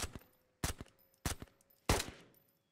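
Four loud, sharp gunshots from the VR shooter Ghosts of Tabor, spaced about half a second apart, each with a quick crack and short decaying tail, close by and alone.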